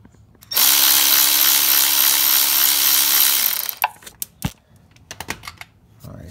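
A power tool or ratchet spins out a 10 mm bolt from the crankshaft position sensor on a Kia, a loud steady whirring burst of about three seconds, followed by scattered clicks and handling noises.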